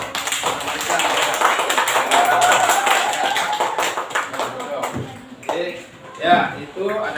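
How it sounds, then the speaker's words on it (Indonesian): Students in a classroom clap together in a dense, sustained burst lasting about five seconds, then a teacher's voice takes over as the clapping fades. "Tepuk tangan untuk kita"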